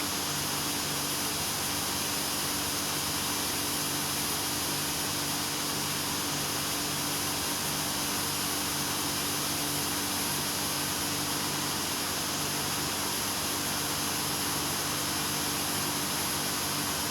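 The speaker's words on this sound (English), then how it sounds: "Clear to start engine." A jet engine spins up in Microsoft Flight Simulator 2024, a steady, dense, continuous roar with a high whine, holding constant loudness throughout with no speech.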